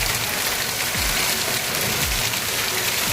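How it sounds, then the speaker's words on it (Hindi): Heavy rain pours down steadily beside a road, a loud dense hiss of water hitting surfaces with no break. "बहुत ज़्यादा बारिश होती है।"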